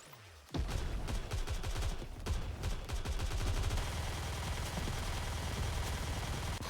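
Sustained automatic gunfire from the video game Nikke: Goddess of Victory, a loud dense rattle of rapid shots that starts abruptly after a brief quiet moment and continues without pause to the end.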